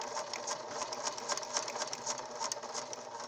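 Sewing machine back stitching a mask nose enclosure, a quiet rapid mechanical whir with steady stitch rattles, close and alone.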